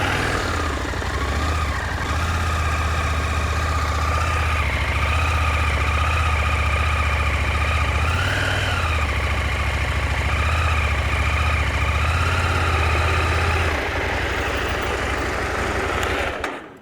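Steady motorcycle engine idling and rumbling at low speed during slow-speed riding practice, a continuous near drone with slight rises in revs and a drop-off near the end.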